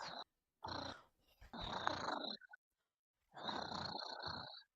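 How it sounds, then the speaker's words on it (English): A house cat purrs with a voiced, rumbling quality in three close bursts of raspy vibration, separated by short silent gaps. "like she has some voice in her purr"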